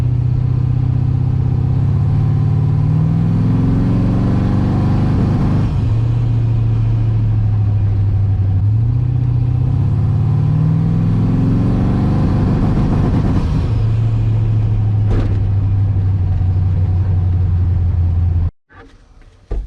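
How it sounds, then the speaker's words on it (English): A car engine run by a Holley Terminator X with traction control cutting cylinders gives a loud, rough rumble close by, its revs repeatedly rising and sagging over the whole stretch before stopping abruptly. "So if the timing pull isn't enough, then it'll start to actually drop out cylinders."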